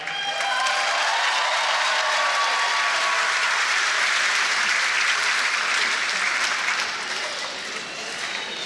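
A crowd at a Bhangra competition stage bursts into sustained, loud applause for a winner, dense clapping holding steady for several seconds before easing slightly near the end, with no whistles standing out.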